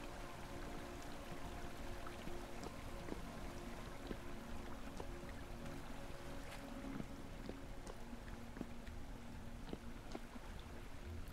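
Steady flowing water in a cave in the survival game Vintage Story, a continuous wash of streaming sound with scattered faint clicks, moderately quiet and unbroken, with no talk over it.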